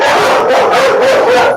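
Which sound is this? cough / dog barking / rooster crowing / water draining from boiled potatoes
dog barking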